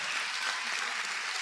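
A church congregation applauds in a dense, continuous wash of clapping that stays steady throughout the short burst.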